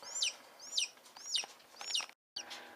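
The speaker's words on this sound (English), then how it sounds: "he's chirping and struggling away" A hatching chick chirps close by, giving four shrill, downward-sliding peeps in a quick, even rhythm, then a softer chirp after a short silence.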